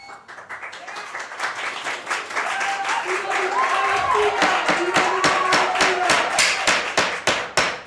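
Clapping builds from scattered hands into steady applause from a city council meeting room full of people, with voices mixed in underneath.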